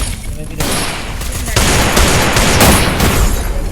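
Loud, close bursts of rapid automatic gunfire in the battle-royale game Free Fire, with rattling volleys following one another almost without a break.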